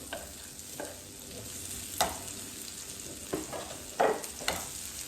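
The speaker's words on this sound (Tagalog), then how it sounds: "magigisa na ako" Chopped onion sautés and sizzles in a hot pan, frying noise rising and falling steadily while a spatula clanks against the pan several times, with sharper scrapes near the end; no one speaks.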